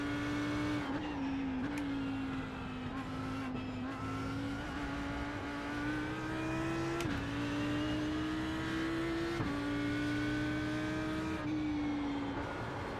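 A race car engine in the iRacing sim drones steadily throughout, its pitch rising and dropping through gear changes and braking, loud and continuous with no talking.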